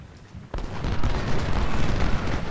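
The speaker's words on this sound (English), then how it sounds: "our 10 pounders are opening up quite the destructive fire" A sudden deep boom of 10-pounder artillery cannon fire in the Civil War strategy game Ultimate General: Civil War, followed by a dense rumbling roll of battle noise that holds steady.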